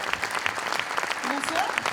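Audience at an award ceremony applauds Sophie Fougère, a dense burst of close clapping with a voice speaking briefly over it.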